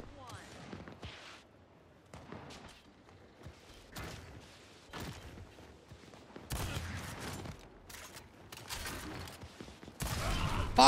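Gunfire from the video game Gears 5, with scattered shots early on and heavier, denser bursts of shooting toward the end, mixed with game sound effects.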